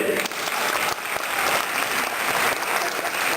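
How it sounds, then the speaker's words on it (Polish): A crowd at a Civic Platform regional government convention in Małopolska claps in sustained, dense applause that runs steadily throughout, loud and close. "Wielkie brawa i podziękowania za przybycie"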